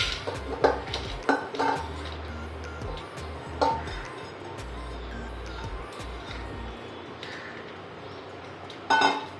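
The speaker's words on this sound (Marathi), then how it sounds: "कुकर मध्ये सगळी डाळ टाकून घ्यायची।" Dal tipped into a pressure cooker, several close metallic clinks and scrapes of a spoon and pot, a run of muffled thuds, then quieter handling and a final clatter, with no talk.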